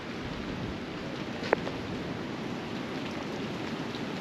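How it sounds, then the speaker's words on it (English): Heavy rain pouring steadily outdoors at Hill 62 near Ypres, Belgium, a dense even hiss throughout with one brief sharp click partway through. "That rain's getting very heavy."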